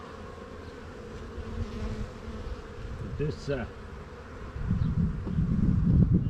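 Steady insect buzzing hums throughout at close range, growing denser and louder toward the end, with a brief voice near the start.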